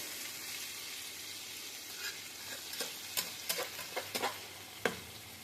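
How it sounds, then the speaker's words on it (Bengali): Eggplant and tomato fry in a pan, giving a steady soft sizzle with a series of sharp stirring scrapes and clicks that grow more frequent toward the end. "এটা আর একটু ভাজা ভাজা করে এটা নামিয়ে নেবো"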